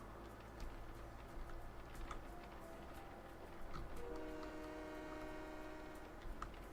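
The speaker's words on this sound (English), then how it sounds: "toot that horn when you're coming out" A train horn toots in a train simulator video game, sustained tones starting midway over a low rumbling engine and faint clicking of the track, fairly loud and close, with no talking.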